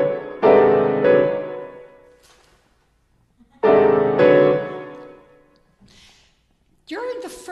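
Two sustained piano-like chords built from an old pentad scale ring out one after another, each struck and left to decay, followed by a third chord starting near the end, with faint talk between them.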